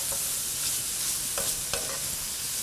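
Onions and hatch chilies sauteing for bacon chili, a steady close sizzle with occasional soft stirring scrapes, no voices.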